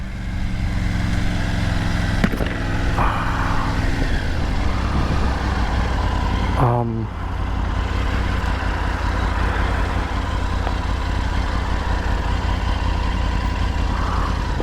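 A 2023 Triumph Tiger 900 Rally motorcycle hums along on a test ride, its engine note steady and close with wind rush, and a brief shift or rev change around the middle.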